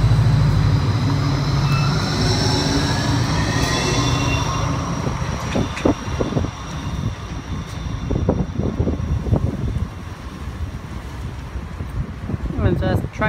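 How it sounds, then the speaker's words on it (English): A G:link tram on Nerang Street, Southport, Gold Coast rumbles away from a stop, low rolling noise with a rising electric whine, then wheel clicks and squeaks fading amid steady outdoor wind. "Tram has just departed."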